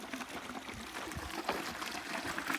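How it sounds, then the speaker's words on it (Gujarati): Irrigation water runs and trickles into a farm field, a faint, steady, gurgling flow with no voices over it. "પાણી પવાય છે"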